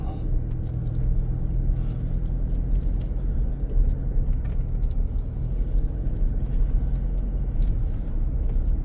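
Busy road traffic on a town street in Chiang Rai, a continuous dense rumble of many cars and vehicles passing nearby, with no distinct voices.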